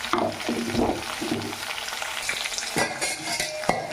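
Brinjal curry being stirred with a ladle in a hot pan for a garlic-chili spice dish, steady close sizzling with repeated scraping strokes and clinks of metal against the pan.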